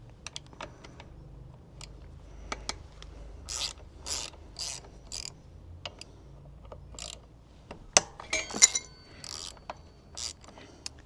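A ratchet with a 12mm hex socket loosens the front brake caliper bolts on a Honda CRF300L, giving clusters of quick metallic clicks in bursts with pauses between, close up and fairly quiet, with no talking.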